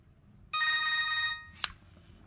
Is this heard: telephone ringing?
yes